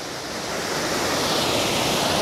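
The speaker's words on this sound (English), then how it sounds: "now we are directly above the waterfall" A waterfall heard from right above its crest, a steady, loud broadband rush of falling water that swells slightly and carries on without a break, with no voices over it.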